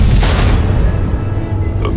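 Deep rumbling booms of missile explosions in the Batman: The Enemy Within game, a loud continuous low roar with a sharper crack near the start.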